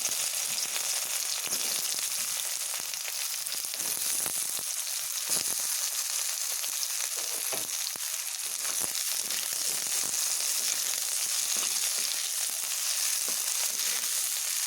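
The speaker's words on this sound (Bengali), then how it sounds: "এই তেলেই আমি ঝিঙেগুলোকে একটা ভেজে নেব" Sliced ridge gourd fries in hot oil left over from frying fritters, a close, steady sizzle that crackles evenly for the whole stretch.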